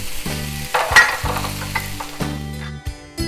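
Shrimp stir-fry with onions, red and green peppers sizzles in a wok, crackling frying layered with a steady humming tone and intermittent metallic clanks and scrapes of stirring, close and without speech.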